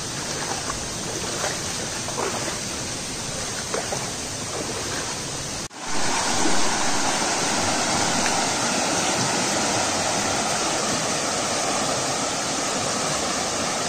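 River water rushes steadily while someone wades slowly through a river after checking traditional bamboo crab traps, a continuous broad wash with a brief dip midway before the flow resumes louder and close.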